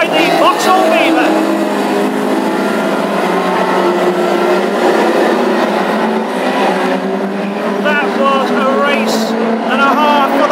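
Classic hot rod racing at Ipswich, a Ford Anglia and a Vauxhall battling into a turn, with loud engines roaring and shifting pitch under continuous race commentary.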